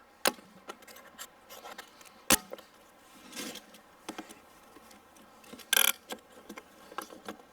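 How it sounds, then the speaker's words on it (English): A hive tool prying up the lid of a bee package gives scattered scrapes, taps and creaks, with a sharp crack near the start and a brief squeak later, all fairly quiet with no talk. "I'm going to take my hive tool. I'm going to pry up this top"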